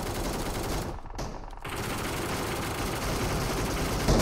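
Dense gunfire from PUBG Mobile during a 25-versus-25 army battle with M762 and ACE32 rifles, a continuous loud barrage of overlapping shots with a brief dip partway through and no voices.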